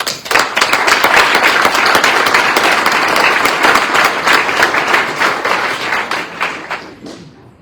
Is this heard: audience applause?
yes